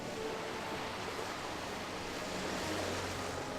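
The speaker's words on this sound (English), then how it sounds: "amidst the roaring waves of the sea, lies the maritime city-state" Roaring sea waves from the Final Fantasy: A Realm Reborn intro, a dense continuous wash of surf and wind around a windswept isle, loud and steady throughout with no voices.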